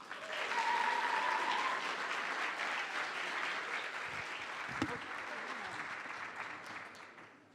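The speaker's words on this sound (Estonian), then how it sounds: "Palun aplaus." An audience at a school playback show applauds, with steady, dense clapping from a crowd that fades slowly toward the end.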